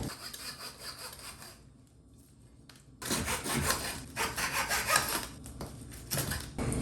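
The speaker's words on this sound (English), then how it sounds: "I'm gonna use this hardwood dowel that I got, which I can cut to length as needed" A hardwood dowel is cut to length by hand saw during a chair leg repair, with steady back-and-forth rasping strokes that pause briefly, then resume louder and faster, close up and alone.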